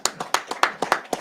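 A congregation claps at a Sabbath service, a quick run of about nine sharp, close hand claps in a steady rhythm with no voices over them.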